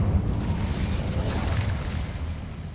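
Fiery whoosh and rumbling burst of an Incendio fire spell cast in Hogwarts Legacy, a loud sustained roar with low booming under it, no talking.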